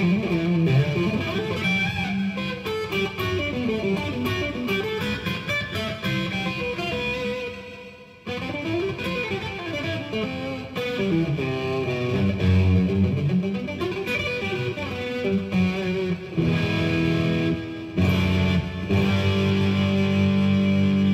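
An electric guitar played through a pedalboard with the reverb turned down gives a loud, distorted, effects-laden passage of shifting sustained notes and chords. It breaks briefly near the middle, then continues without any talk.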